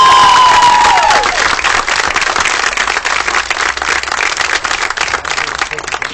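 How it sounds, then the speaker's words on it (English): A crowd at a Bronco World Series youth baseball game in Tijuana, Mexico claps loudly and continuously after a short tone, the dense patter holding steady with some voices mixed in. "a large round of applause for our Bronco World Series representatives"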